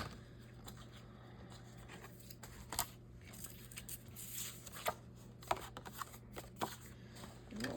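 Thick greeting cards are trimmed for a journal, producing soft, irregular snips and papery rustles at close range over a low background hum.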